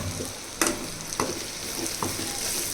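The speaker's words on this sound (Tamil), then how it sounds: "ஸ்லிம்மில் வச்சு நல்லா வதக்கி விட்டுக்கோங்க" Browned masala sautéing on low heat in a pan for mutton curry: a continuous soft sizzle broken by three sharp scrapes of a spoon against the pan, close and clear, no talking.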